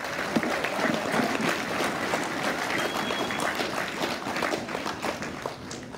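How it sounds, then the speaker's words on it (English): An audience at the DigiMedia Red Carpet 2023 event breaks into dense, sustained applause, many hands clapping together at an even level with no speech over it. "please give a huge round of applause to our filmers, our editors, and our animators"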